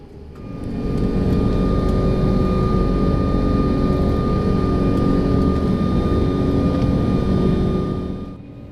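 A Thai Airways Airbus A340-600 with four engines departs Sydney airport, and its steady jet roar is heard from the cabin, loud and sustained with a faint high whine, swelling up and then fading at the end.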